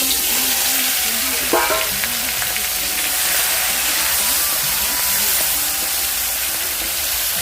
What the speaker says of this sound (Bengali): আমি এখন নুন আর হলুদ মেখে রেখেছি কাঁকড়াগুলোতে। এখন এগুলো আমি ভেজে নেব।